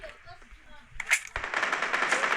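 Video game gunfire hitting a target: a quiet stretch gives way to a sharp shot followed by a rapid burst of loud, rattling shots, with a voice faintly under the start.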